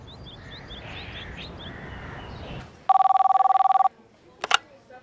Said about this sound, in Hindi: फोन बज रहा था